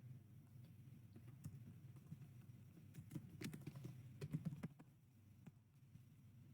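Soft, faint keystrokes from a computer keyboard as code is typed, an irregular patter of clicks that clusters into quicker bursts midway, over a low background hum.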